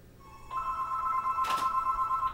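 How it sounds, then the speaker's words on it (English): A steady electronic telephone ring from the SNES game Jeopardy! Deluxe Edition, two sustained tones that start abruptly and keep sounding over a faint background with a brief noisy burst. "Oh, another telephone call coming up."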